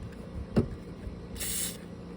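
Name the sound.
spraying lubricant on car door hinges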